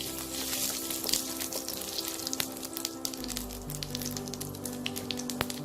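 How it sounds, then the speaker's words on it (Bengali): Onions fry in hot oil already tempered with bay leaves and white cumin for a coriander chicken curry, giving a continuous close sizzle with scattered crackles and no voices. "আমি পেঁয়াজ দেবো।"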